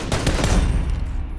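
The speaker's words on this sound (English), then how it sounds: "So we open gunfire." Gunfire in the PUBG (PlayerUnknown's Battlegrounds) battle-royale game: a close, loud burst of rapid overlapping shots that sustains across the moment with no talking.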